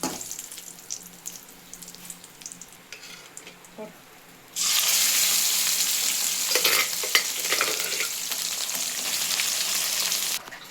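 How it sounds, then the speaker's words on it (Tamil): Sorrel leaves (pulicha keerai) are tipped into a hot pan with dal, and a loud, steady sizzle erupts and continues close up, with stirring scrapes over quieter kitchen noise beforehand. "இது இந்த மாதிரி நல்லா வந்து வதக்கிக்கணும்."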